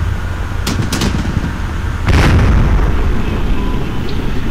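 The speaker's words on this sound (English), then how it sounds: "A few more missiles hit" Missile strikes in the Combat Mission: Shock Force war game land as loud, close booming explosions, a couple of sharp blasts near the start followed by a heavier detonation with a rumbling tail.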